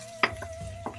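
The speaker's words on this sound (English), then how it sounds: "So while this is frying," Eggplant and sweet peppers fry in a wok for a Chinese hot garlic sauce dish, with three quick scraping stirs and clinks over a low sizzle and a steady hum.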